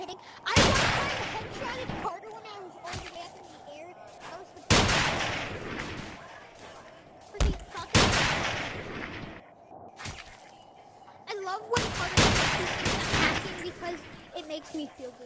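Gunfire in the Monkey Labs video game during a PvP match: several sharp, loud shots in bursts, each with a short decaying tail, spread across the span under faint background noise.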